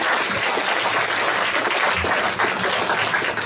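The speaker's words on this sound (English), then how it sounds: "you need to give a big round of applause to Jackie and her team and those researchers." A big round of applause from an audience at a community charity gala, steady dense clapping that stays loud and continuous throughout with no talking over it.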